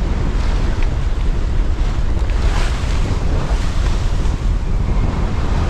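Strong gusty wind buffets a sailboat crossing a New Zealand bay with a reefed mainsail, loud steady roaring wind noise over the wash of waves and water rushing along the hull, constant throughout.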